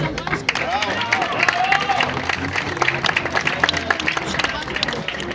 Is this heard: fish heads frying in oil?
no